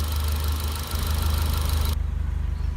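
A RenaultSport Megane 225 engine held at a high idle while cylinder cleaner is fed through it, a loud, steady low rumble with an even pulsing beat and no talk.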